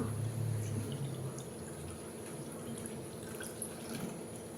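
Thin wheat halwa batter strains through a mesh strainer, a soft continuous trickle and drip of liquid into a bowl, quiet and close.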